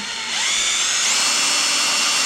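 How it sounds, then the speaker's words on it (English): A power drill spins a brass lap coated in lapping compound against a rifle muzzle, a loud close whine that rises in pitch and holds steady for a couple of seconds, with no talk. "So we've got the brass lap set up in the drill, covered in the lapping compound."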